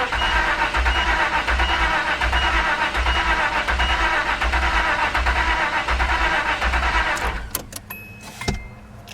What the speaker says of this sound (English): Sounds kind of funny cranking, don't it?